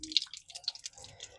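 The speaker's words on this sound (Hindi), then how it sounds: "तो सबसे पहले दाहिना हाथ धोएंगे 3 मरतबा इस तरीके से," Water drips and splashes faintly while the right hand is washed three times during Islamic ablution (wudu), soft intermittent droplets close by with no talk.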